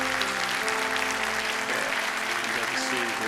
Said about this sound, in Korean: 우리 큰 박수로 한번 환영해 주시면 좋겠습니다.